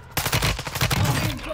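Rapid automatic gunfire from an enemy soldier in the Warzone video game's Zombie Royale mode, a dense rattling burst that starts abruptly and continues steadily at close range.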